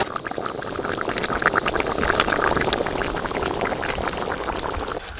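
A big 5 kg crab roast cooks in a pot, bubbling and simmering steadily with a continuous, close, wet gurgling and popping that never stops.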